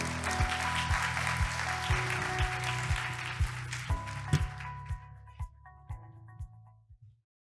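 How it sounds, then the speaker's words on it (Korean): Audience applause at a robotics forum session welcoming a speaker to the stage, a broad steady wash of clapping that thins out and fades, with a few louder individual claps standing out toward the end. "뜨거운 박수로 환영해 주시기 바랍니다"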